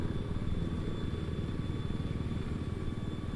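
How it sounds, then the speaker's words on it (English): Attack helicopter in the video game Battlefield 4, a continuous throbbing rotor and engine drone with rapid pulsing, steady and moderately loud without any talk. "this is an attack helicopter"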